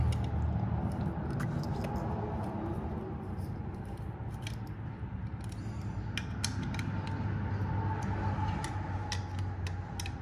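Bolts on aftermarket Bonamici Racing case covers for a 2021 Ducati Panigale V4S are snugged with a ratchet, which gives repeated light clicks and creaks over a constant low background hum.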